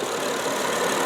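A 2005 Saturn Vue AWD engine idles steadily, a close, even mechanical hum with no talking over it.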